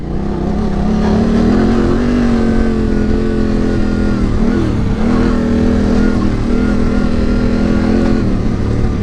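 Yamaha Tenere 700 motorcycle ridden hard off-road over rocky terrain, its engine droning loudly and continuously with rising and falling revs throughout, heard close from the rider's position.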